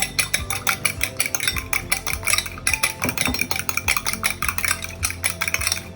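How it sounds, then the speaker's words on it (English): Two eggs with a pinch of salt whisked briskly in a bowl, a fast, loud, rhythmic clatter of utensil against dish that runs continuously at close range with only a brief pause. "2 eggs. Add some salt, a pinch of that, and beat it."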